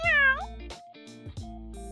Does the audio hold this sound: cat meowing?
yes